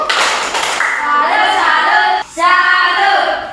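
A short burst of applause from a group, clapping overlapped by voices and cheering.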